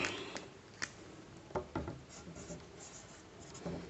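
Pen or pencil writing out a Pythagoras theorem equation on paper, scratchy strokes with several short sharp taps and pauses, close and fairly quiet with no talking.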